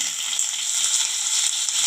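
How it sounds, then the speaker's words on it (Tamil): Chopped onions sauté in hot oil with bay leaf, cinnamon, cardamom, cloves and star anise, giving a steady close bright sizzle with faint stirring underneath and no talking. "இப்போ இதை நல்லா வதக்கி விட்டுக்கலாம்"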